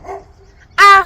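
Théo the dog yaps outside in a yard, one loud sharp bark near the end after quieter yips, close to the listener.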